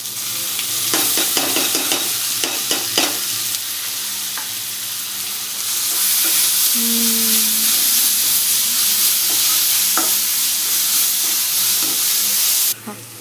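Ginger garlic paste frying and being stirred in a pan with browned onions and green chillies for a spicy cucumber chicken fry, a steady close sizzle and hiss broken by repeated scraping stirs, with no talk.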